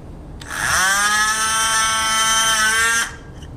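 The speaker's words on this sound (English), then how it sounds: "I'm going to try running a drill bit through there" A drill whirs up abruptly, running a bit through to remove plugs, holds a steady high-pitched whine for about two and a half seconds, then stops.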